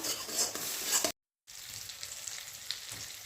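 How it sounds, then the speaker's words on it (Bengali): Masala spices fry in a pan with a steady, close hiss and light stirring scrapes, broken by a brief total silence before the sizzle resumes, slightly quieter. "এই যে দেখতে পাচ্ছেন, ভাজা প্রায় হয়ে গেছে মশলাটা"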